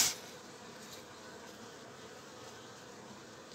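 Bees buzz in a steady, faint insect drone, continuous and even, with a brief louder click at the start and no talking, during beekeeping work on a colony.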